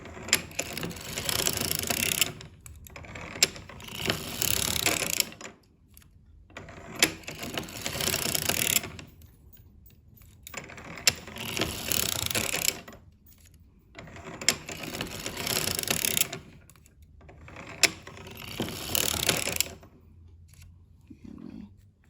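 A circular sock knitting machine is hand-cranked while it knits a sock heel, giving repeated bursts of close mechanical clattering and ratcheting a few seconds long, separated by brief pauses.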